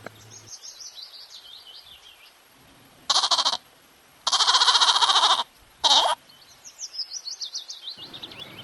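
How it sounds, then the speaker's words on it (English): A goat bleats in three loud, strained bursts of varying length in a children's alphabet rhyme, with bird chirps twittering before and after. "G for goat."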